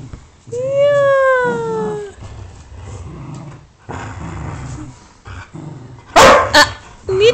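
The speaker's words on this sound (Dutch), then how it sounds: "Ah, niet blaffen." A dog yelps and barks during rough play with another dog: a long whining yelp, then short, soft grumbles and a few sharp, loud barks near the end, all close to the microphone.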